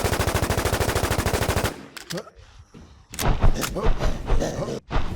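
Rapid automatic gunfire rattles loudly from a shooter in the WarZ Siam online survival game, a steady burst lasting under two seconds, followed by scattered thumps and shuffling with a few more sharp bangs.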